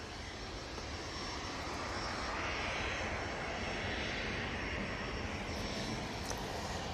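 A TUI airliner departs Manchester Airport for Cancun with a loud, sustained jet engine roar, close and unbroken throughout, with no talking.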